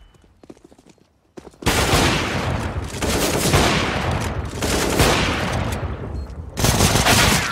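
Rapid automatic gunfire from CS:GO, loud and close, in long sustained bursts with a short quiet gap before the first volley and a fresh burst near the end.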